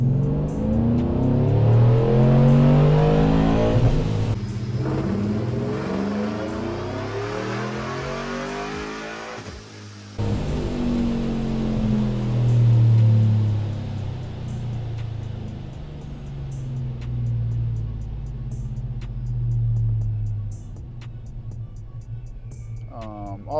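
A procharged, BTR-cammed 6.2L GMC Denali truck engine running rich with its timing off roars through a dyno pull. The engine revs loud and close, dips briefly partway through, then climbs again, with no talking.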